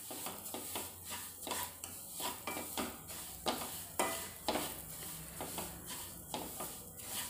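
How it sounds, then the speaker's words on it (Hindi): Semolina for suji halwa roasts in a pan under steady scraping strokes of a spoon, a soft continuous sizzle with rhythmic scratchy stirs repeating about every half second. "सूजी को अच्छी तरह भून लेंगे।"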